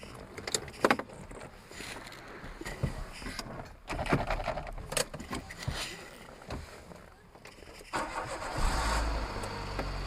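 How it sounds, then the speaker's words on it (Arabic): A used car for sale is started and left running, a mechanical engine sound with cranking and revving bursts settling into a steady idle, close by and fairly loud. "غتسمعوا الصويت ديال الموتور ان شاء الله تعالى باش تعرفوا الحاله ديال الموتور"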